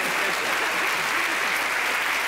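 Steady, dense applause from a German television studio audience fills the whole stretch at an even level, with no voices rising above the clapping.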